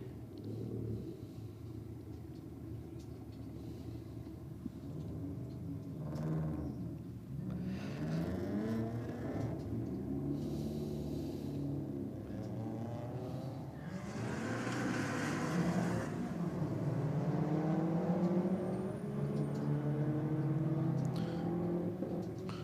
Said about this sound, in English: I think that was that little Civic doing a whole heap of revving there for a bit of wheel spin